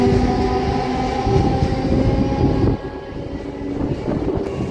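A MEMU passenger train at Kothur, a small railway station, gives a loud, continuous rumble of wheels and carriages that drops abruptly partway through, then settles into a lower steady roll with some wind buffeting.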